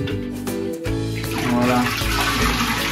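Water splashes and pours continuously from a large container during a cold bucket shower at a basic island lodging, close and steady with running, gushing texture and no speech.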